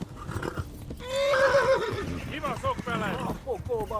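Horse in the video game Kingdom Come: Deliverance neighing in a long, loud whinny followed by shorter snorting calls, with hoof clip-clops and someone talking over it.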